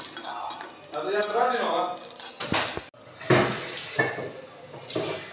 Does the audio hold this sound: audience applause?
no